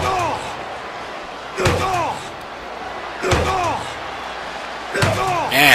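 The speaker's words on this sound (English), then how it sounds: "Now the Doctor slamming the head of John Locke against the steel steps." Head slammed against steel steps in a wrestling match, three loud metallic clangs with ringing echoes spaced evenly apart over crowd noise, with commentary speech running underneath.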